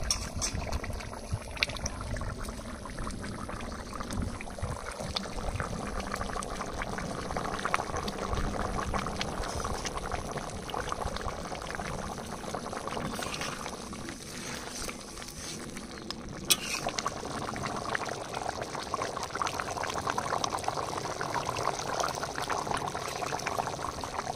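Steady bubbling and sizzling of a thick, spicy duck and papaya curry cooking in a pot, continuous and close, with occasional clinks of utensils.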